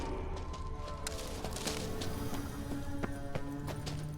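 Kelpie, a horse in The Witcher 3 video game, clip-clops with steady hoof beats over a busy game soundscape, moderately loud and continuous with no talk.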